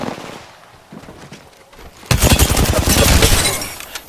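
Gunfire in Apex Legends, quiet and scattered at first. A loud, sustained burst of rapid shots then starts partway through and runs to the end.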